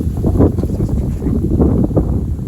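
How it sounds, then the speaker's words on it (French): A moderate south wind gusts at about 55 km/h in mild December weather, roaring and buffeting loudly and steadily against the microphone with no voices heard. "Petite rafale."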